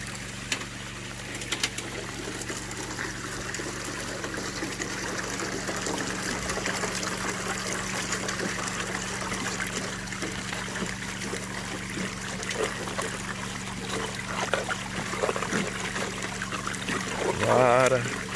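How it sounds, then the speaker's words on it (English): A small amount of water trickles and drains out of placer mining equipment into a catcher, a soft continuous dribble with a low steady hum beneath and occasional faint handling sounds. "So I'm going to let just a tiny little bit of water out of here"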